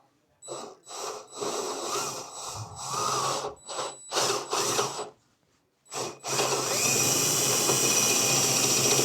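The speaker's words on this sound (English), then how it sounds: "So let's get drilling." A power drill whirs in several short bursts with brief pauses, then runs steadily and loudly, its motor whine grinding through material up close.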